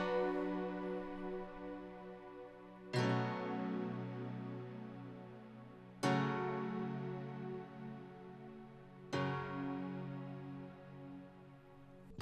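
Piano chords from a keys preset in FL Studio with a soft string-like layer, four sustained chords struck about every three seconds, each ringing and slowly fading, quiet and alone.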